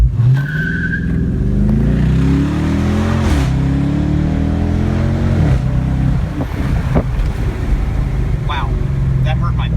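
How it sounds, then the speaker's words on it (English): A new Dodge Charger Daytona is driven, its engine note rising and falling through acceleration and shifts, with a tire squeal at one point and a person talking intermittently over the drone. "So driving the Charger Daytona, first thoughts right away."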